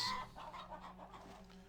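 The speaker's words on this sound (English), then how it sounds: "Let's have a look at the chickens." Chickens cluck in the village-building game Farthest Frontier, a short run of quick, choppy hen clucks at moderate volume with no talk over them.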